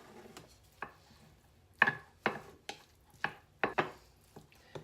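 A Thermomix mixing a fish pastilla filling with onion and mushrooms, heard as a series of sharp, irregular knocks and clacks in a quiet kitchen, about a dozen over a few seconds.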